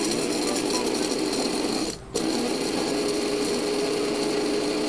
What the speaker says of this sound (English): Then I'm going to grind them for a few seconds.